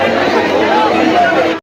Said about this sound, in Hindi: अब चहल पहल हो गई है, अब हड़कम मच गया सबके बीच में